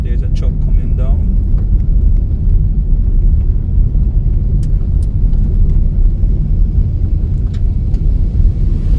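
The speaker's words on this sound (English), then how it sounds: "So there's a truck coming down." A truck drives along a partly paved perimeter road near Montego Bay, Jamaica, a steady low rumble and road roar throughout, close and loud, with faint scattered clicks on top.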